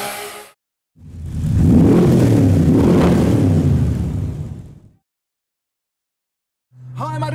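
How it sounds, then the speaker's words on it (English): A loud Mitsubishi Evo passing close by, a swelling roaring rumble lasting about four seconds before dropping away, with a brief gap of silence on either side. "We have a Mitsubishi Eva in front who is very loud"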